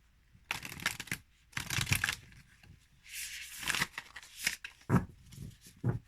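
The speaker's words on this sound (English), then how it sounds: "The overhand shuffle." Tarot cards shuffled overhand, a series of quick papery riffling and slapping bursts in irregular clusters, close and fairly quiet, with no speech.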